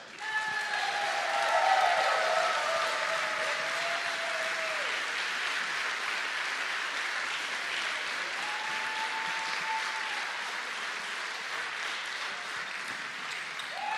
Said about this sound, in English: So a big round of applause for all the people who's been working very hard for this event.